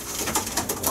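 A pigeon coos softly in a short burst of low, throaty rolling notes, close by with some background noise.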